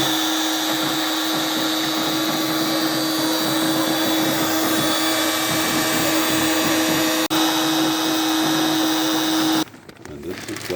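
A CNC router carves into a cement block, a steady, loud motor whine with a constant tone that runs throughout, then cuts out near the end as the spindle stops.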